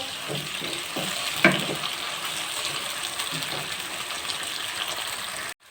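Tomato dropped into a pan of frying garlic, onion, cumin, mustard seeds and green chillies, giving a steady close sizzle with scraping stirs and a brief clatter, ending abruptly.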